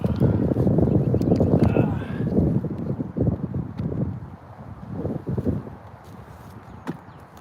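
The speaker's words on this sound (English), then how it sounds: "windy out here today, boys and girls." Gusty wind buffets the microphone outdoors in a woodland where a large white oak is being cut up, rumbling strongly at first and easing off toward the end.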